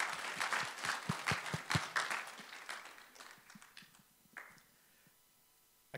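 A small church congregation on a Sunday morning claps for the speakers, a scattered round of individual hand claps that builds briefly and then trails off into a few isolated claps, fairly quiet overall.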